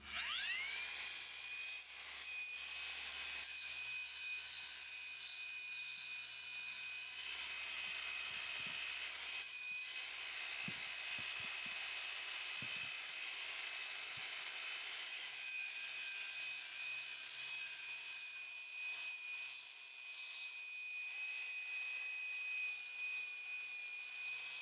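A large puddingstone rock is ground on a spinning 30 grit polishing pad, a steady high motor whine with rough scraping and a few sharp clicks over about twenty-five seconds.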